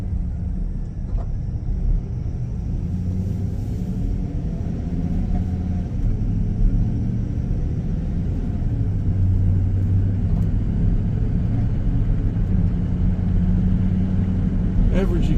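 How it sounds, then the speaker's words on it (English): A 2019 Chevrolet Express 3500 extended van is driving, its engine and road noise a steady low rumble heard from inside the cabin, continuous and even throughout. "We're in the 2019 Express van 3500 extended."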